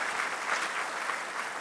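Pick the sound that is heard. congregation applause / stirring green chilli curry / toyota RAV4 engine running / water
congregation applause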